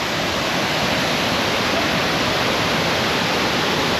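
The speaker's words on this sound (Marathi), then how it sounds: "हाच आहे तो सावडाव धबधबा" Savdav waterfall at Kankavali, Sindhudurg, roars in a loud, unbroken rush of falling water that stays steady throughout, with no voices.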